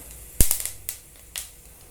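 A few sharp, sparse pops and crackles, close and fairly quiet, from fennel seeds spitting in hot oil.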